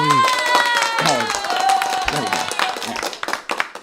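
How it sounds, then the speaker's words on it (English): A small live crowd gives a little applause during a live stream; voices talk loudly over the start, then scattered hand claps come through more clearly toward the end. "We got to get a little applause"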